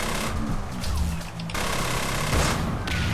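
Video game gunfire in the shooter Section 8: Prejudice, rapid automatic bursts of shots and impacts filling the clip, loud and close, with brief gaps between volleys.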